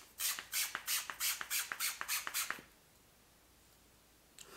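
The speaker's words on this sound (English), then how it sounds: "Spray two or three pumps." About ten quick, rhythmic pump sprays of a makeup setting spray hiss out in a rapid burst, close up, followed by near silence with a faint click at the end.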